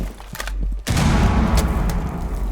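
Gunfire from the video game Tom Clancy's Rainbow Six Siege sounds as a loud, dense burst, erupting after a few sharp earlier cracks and continuing as rapid, booming shots.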